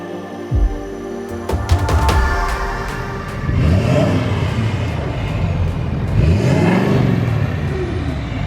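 A Ford Powerstroke King Ranch diesel truck with a new exhaust revs outdoors at night, its engine rising and falling in two or three broad swells over a steady, close, loud drone.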